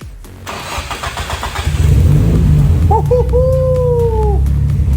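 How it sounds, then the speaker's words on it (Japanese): A Nissan Silvia S14 drift project car in Texas cranks and fires up, then settles into a loud, steady low idle close by, while people talk over the engine. "エンジンをかけましょう。 かかるかな。"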